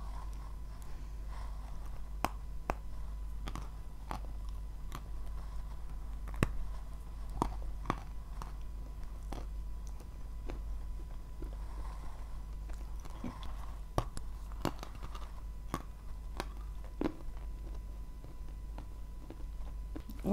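Close ASMR chewing of Azov chalk, with faint, scattered crunchy bites and soft mastication clicks over a low steady hum, and no talking.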